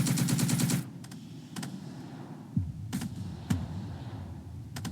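Defensive gunfire from units in a wargame video game: a rapid machine-gun-like burst up front, then scattered sharp shots and thumps over a low rumbling bed, fairly loud and without talk.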